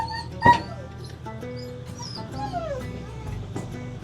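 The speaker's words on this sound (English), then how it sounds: "That's some excited dogs." Three big dogs whimper and yip excitedly in high, wavering whines inside an RV, close by, with a sharp yelp near the start and soft background sounds.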